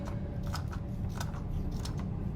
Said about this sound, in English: I cut a corner, okay, and cut small squares out of it.